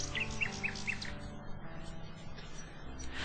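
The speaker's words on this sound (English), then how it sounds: "Oh look, a bird!" A small bird in King's Quest VI gives a quick run of bright, high chirps at the start, then falls quiet over a low game music bed.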